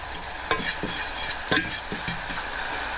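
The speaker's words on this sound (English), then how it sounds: "So we're going to let this saute for about a minute or two until it gets soft." Hot pepper flakes sautéing in a pan for a couscous dish, a steady soft sizzle with a few utensil scrapes and taps as they are stirred.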